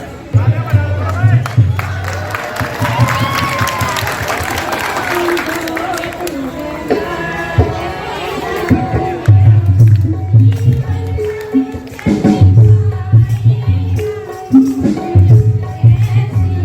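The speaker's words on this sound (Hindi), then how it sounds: "जोरदार तालियां" Loud applause breaks out from an audience at a Holi gathering during a devotional song contest, clapping mixed with cheering voices and music, surging in bursts over a steady crowd din.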